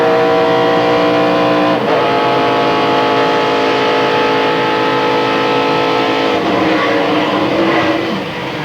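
A 1997 NASCAR Busch Grand National race car at Watkins Glen, driven by Dale Earnhardt Jr. and heard from its in-car microphone, its engine droning loud and close, with pitch shifts as it changes gear.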